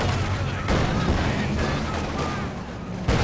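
A bundle grenade going off in a World War II tank battle video game, heard as a dense rumbling blast amid continuous battle noise and gunfire.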